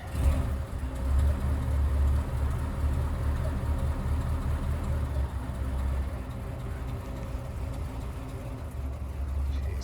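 A 1931 Cadillac 355 town sedan engine idles steadily just after start-up with the choke partly pulled, a low, even rumble that stays smooth and fairly quiet throughout.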